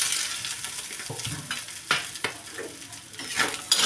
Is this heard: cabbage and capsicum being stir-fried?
yes